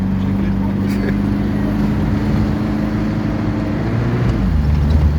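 A Ford Taunus car engine revving on the road, a loud steady low drone with a rising then falling pitch near the end, heard from inside with voices talking over it.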